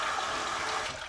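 Water drains steadily from a newly remodeled bathroom sink, a continuous rushing gurgle that stays close and fairly loud for the whole moment, with no voices.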